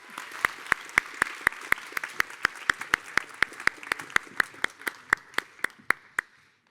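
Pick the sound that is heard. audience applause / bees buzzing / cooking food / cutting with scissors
audience applause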